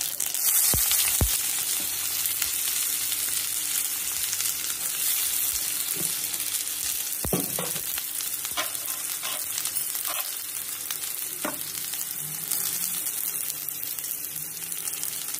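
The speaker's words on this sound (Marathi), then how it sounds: "कढई तापायला ठेवल्या, तेल घातलं." Hot oil sizzles in a wok at the start of making methi besan pitla curry, a steady loud frying hiss with occasional sharp pops and crackles, and nobody speaks.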